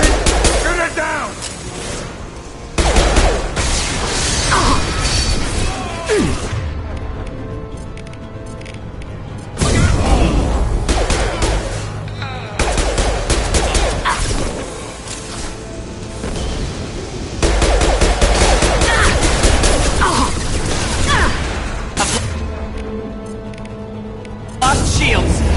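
Rapid bursts of sci-fi weapon fire in Mass Effect as a loose fuel tank is shot down, loud and dense with booms and crashes, under shouted voices.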